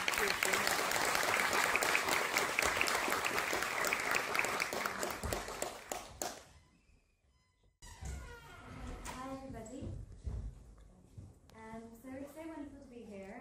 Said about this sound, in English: please give a warm round of applause for tonight's speaker